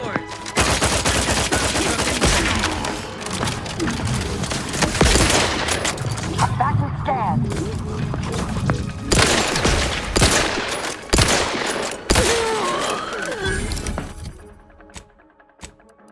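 Heavy sustained gunfire from a firefight in the sci-fi game The Outer Worlds 2, loud volleys of automatic and single shots with impacts and shattering, voices calling out over it, fading near the end.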